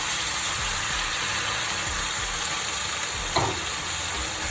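Choy sum greens stir-frying into vegan Maggi goreng noodles in a hot pan: a broad constant hiss of sizzling with occasional faint scrapes and one clearer clink near the end, with no voices.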